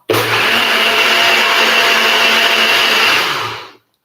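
A blender runs at full power crushing a drink, a loud, steady roar that holds for over three seconds before cutting off abruptly.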